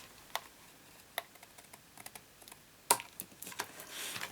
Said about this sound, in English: So just snip that little bit off.